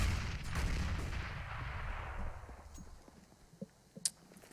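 Grenade blasts in Counter-Strike: Global Offensive on the Dust2 map during a pro match; a booming, rumbling explosion that fades out over a couple of seconds, followed by a few faint distant gunshot cracks.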